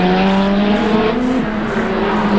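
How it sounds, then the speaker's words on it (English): A 1987 Ford Sierra Cosworth turbocharged touring car engine at the Adelaide Grand Prix circuit drones loud and steady at near-constant pitch, cruising rather than revving, with a slight dip midway. "Listen to for yourselves to the engine of his Ford Sierra Cosworth."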